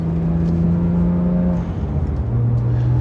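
A BMW 1M with AST 5100 coilover suspension idles while warming up, a steady low engine drone with a faint whir, close and continuous with no talk.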